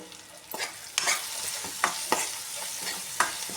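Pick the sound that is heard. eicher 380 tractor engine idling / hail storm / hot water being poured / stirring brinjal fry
stirring brinjal fry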